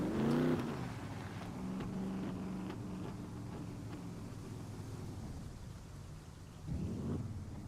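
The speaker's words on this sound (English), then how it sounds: "This water is so loud." Loud rushing water in a video game, a continuous broadband roar like heavy rain or a torrent, with a few swelling surges near the start and end.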